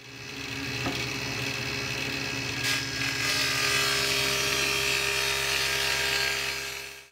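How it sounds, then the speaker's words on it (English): Dado cuts being made in wood for a miter box stand, a steady loud whirring machine drone that runs continuously with little change, ending abruptly at the close. "And now I gotta cut some dados."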